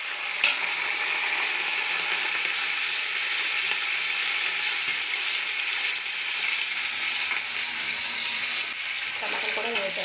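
Onions and green chillies frying in spiced oil in a pan, a steady bright sizzle throughout with occasional scraping and stirring clatter, close and continuous without speech.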